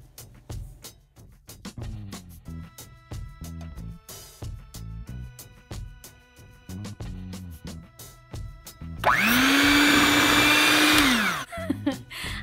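An electric mixer whirs loudly for a couple of seconds as it combines dry and wet brownie ingredients made from scratch, rising suddenly over quieter kitchen clatter and music, then cutting off.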